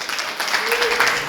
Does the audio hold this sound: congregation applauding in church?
yes